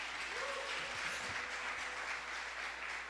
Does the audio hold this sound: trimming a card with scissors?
no